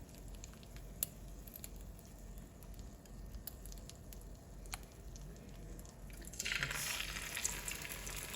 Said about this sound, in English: throw it into the frying pan with as much egg as it can go with it